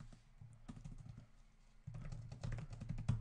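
Rapid typing on a computer keyboard during network router configuration, a close, dense patter of key clicks that pauses briefly and then resumes louder and faster, with no talk.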